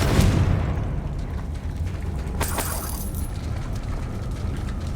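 A Confringo blasting spell explodes in Hogwarts Legacy with a sharp burst at the start and a second crackling blast midway, set over a steady rumbling game soundscape.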